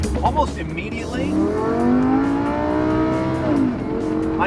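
A 2024 Lamborghini Huracan with a dual-clutch transmission pulling hard, its engine note rising and dropping through smooth quick gear changes, with someone talking over the drive.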